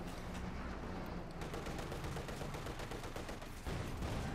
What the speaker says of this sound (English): Grenadiers under fire from the T-34-6 as it steadily advances